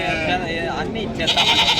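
Young goat kids bleat loudly at a livestock market over a background of talking voices, followed by a higher, wavering bleat near the end.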